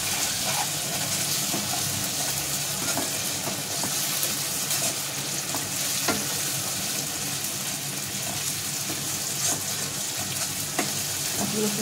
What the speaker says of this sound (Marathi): आता तळून घ्यायचं.